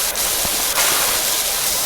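Pressure washer blasting in PowerWash Simulator, a loud, steady broadband hiss of spraying water running without a break, close and continuous.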